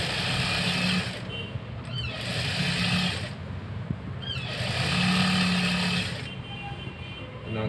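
A sewing machine stitches a folded blouse hem in bursts, a close rapid mechanical whir running for a second or two at a time, separated by short pauses.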